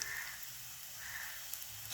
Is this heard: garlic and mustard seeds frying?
yes